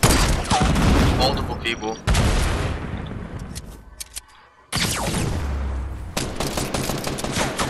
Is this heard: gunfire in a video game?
yes